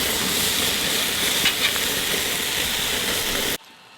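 Tuna steaks searing in butter and zesty Italian dressing in a pan at a tent campsite give off a steady, close, hissing sizzle that stops abruptly just before the end.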